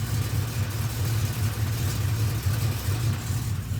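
A cammed truck engine fitted with long tube headers idles rough and lopey, a loud, uneven low rumble with rhythmic choppy pulses heard alone.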